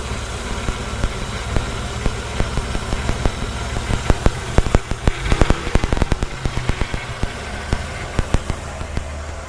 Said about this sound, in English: It gets to idle pretty good.